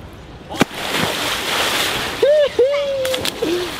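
A person is thrown into a swimming pool, giving a splash and sloshing water under laughter and lively voices, with excited shouts rising near the end.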